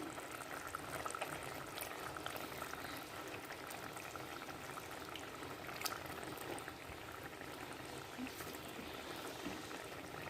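Prawns simmer in a Kerala-style curry with ripe kudampuli and jackfruit seeds, giving a steady close bubbling and hissing boil that continues evenly throughout without speech.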